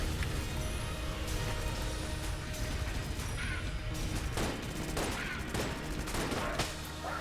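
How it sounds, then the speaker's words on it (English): Rapid bursts of gunfire from the bullet-hell video game Enter the Gungeon, a dense continuous fusillade of overlapping shots and mechanical clatter with sharper individual reports standing out near the end. "How did my other gun fire?"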